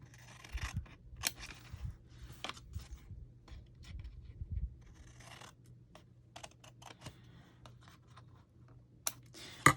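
Scissors snip paper for an embossing folder card, a quiet close series of crisp cuts and slides at an uneven pace, with light paper handling and rustling between snips.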